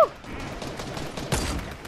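Sniper rifle shots in the Fortnite video game, a couple of sharp cracks with short echoing tails over steady game noise, one burst near the start and another around the middle.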